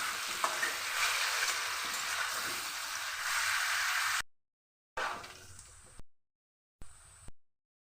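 Chicken biryani fries in a pan without food colouring: a close, continuous sizzle and stirring that breaks off abruptly into short bursts separated by silence.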